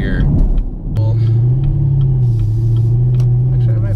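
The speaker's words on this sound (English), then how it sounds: "So we'll do an uphill pull right here." Chevrolet Camaro SS on Toyo Proxes R888 tires pulling hard uphill from a stop in sport mode, a loud, deep V8 rumble rising steadily in pitch inside the cabin after a brief quieter moment, with voices audible.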